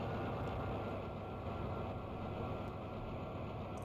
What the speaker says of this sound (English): Let's come to stop for a moment so you can hear the sounds of the engine